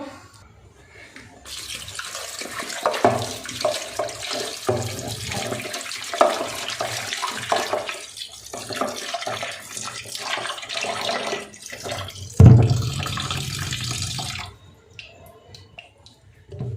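Water splashes and drains as washed chicken is tipped into a strainer in a home kitchen, with irregular gushes and trickles, a louder pour near the end, then the flow tapering off.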